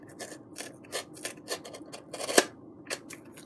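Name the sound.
scissors trimming the edge of a foamboard glider piece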